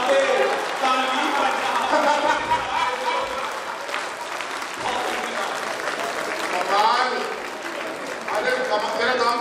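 Crowd at a comedy or poetry performance breaking into sustained applause, loud and steady, with chatter, laughter and a voice mixed in over the clapping.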